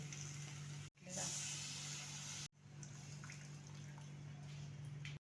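Hot water poured into a drumstick and potato curry makes a steady close hissing splash that breaks off twice, quiet and continuous.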